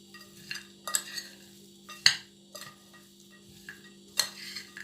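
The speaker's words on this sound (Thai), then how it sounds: "เราก็คนให้เข้ากันนะ" Scraping and clinking stirs of a spoon through chili paste with fried garlic and pork cracklings. The strokes come in irregular bursts, fairly close and soft, with a faint steady hum underneath.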